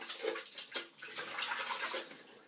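Hands rinsed under running tap water after applying a slippery water-soluble pre-shave oil, giving irregular splashing gushes and bursts of water at close range.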